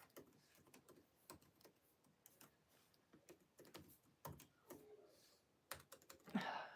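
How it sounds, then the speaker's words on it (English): Quiet, close clicking of keys on a computer keyboard as a password is typed, in irregular bursts of taps with short pauses between them. "I'm trying to type in my password"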